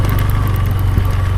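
A motorcycle engine idles nearby with a loud, steady low chugging and a slightly uneven beat, alone without voices.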